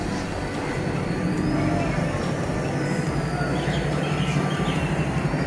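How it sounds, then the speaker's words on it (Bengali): A metro train pulling into New Garia station on an empty platform, a broad steady rumble and roar of wheels and motors filling the space, loud and continuous. "এই দেখুন মেট্রো ঢুকছে"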